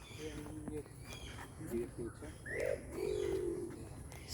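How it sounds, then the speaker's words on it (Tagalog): Birds coo softly at a crocodile farm, with several low, rounded dove-like calls under faint background murmur and ambient noise. "So dito may mga ibon."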